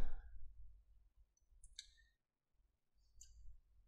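An RJ45 crimping tool being handled, giving a few brief, faint clicks over quiet background hum.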